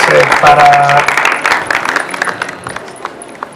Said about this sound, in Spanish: se merecen un extraordinario aplauso